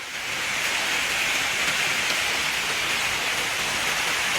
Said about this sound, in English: we got stuck in a fucking hailstorm